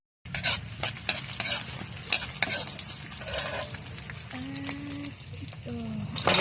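Garlic and onion sauté in a heated pan (kawali), sizzling steadily as a utensil stirs and scrapes with irregular clinks and taps, close and fairly quiet.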